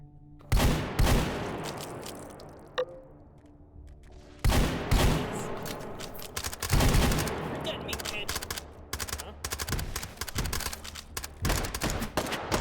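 Rapid shotgun blasts from dual scatter guns in the VR shooter H3VR, loud sharp reports fired in clustered bursts with brief pauses, mechanical clicks between, and a voice talking faintly under the gunfire.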